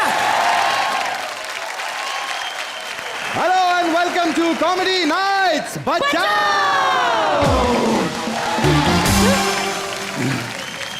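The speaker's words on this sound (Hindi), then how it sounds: "एक बार जोरदार तालियां" A studio audience on a TV comedy show applauds and cheers, a broad wash of clapping and whoops running under and around a host's loud spoken welcome.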